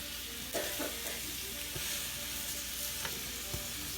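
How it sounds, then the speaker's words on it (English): Steady frying sizzle of onion in a hot pan, with a few soft clinks and taps of a utensil against the cookware. "so my onion is starting to sizzle"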